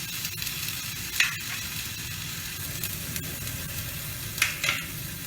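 Garlic paste with red chilli powder sizzling in a little oil, a steady close frying hiss with a few louder spits and stirring scrapes.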